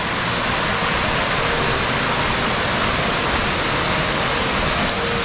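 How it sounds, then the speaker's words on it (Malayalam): Roaring waterfall in Idukki heard from nearby: a steady, loud, broadband rush of falling water with no break, alone without talk. "അപ്പോൾ ഇവിടെ തന്നെ വെള്ളച്ചാട്ടത്തിൻ്റെ സൗണ്ട് നമുക്ക് കേൾക്കാം."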